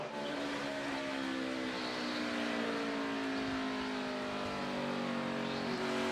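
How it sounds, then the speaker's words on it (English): A NASCAR stock car at the Capital City 400 coming off a corner, its engine droning loud with a wavering, stuttering throttle note that rises as the car accelerates away. "you hear Harvick stutter in the throttle coming up off the corner"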